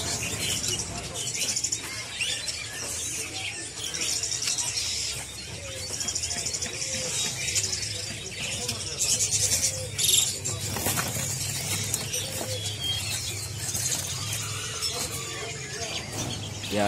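Caged songbirds at the Pramuka bird market kiosks chirp and twitter in a dense, continuous wash, mixed with crowd bustle and someone talking throughout.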